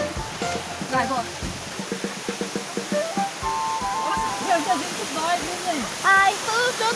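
A waterfall on a forest hiking trail at a country farm gives a steady rushing roar. People talk and call out over the noise throughout.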